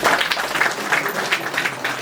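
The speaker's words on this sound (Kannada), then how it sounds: "ಅದಕ್ಕಾಗಿ ಅವರಿಗೆ ಒಂದು ಜೋರಾಗಿ ಒಂದು ಚಪ್ಪಾಳೆ" Loud, dense applause from an audience honouring children of a kunitha bhajan dance troupe, steady clapping filling the whole stretch with no speech over it.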